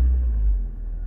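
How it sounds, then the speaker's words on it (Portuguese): Citroen C4 / Peugeot 307 engine just after starting, a deep, close, steady low rumble of a petrol car idling, brief and with no voices. "Vou ligar o carro."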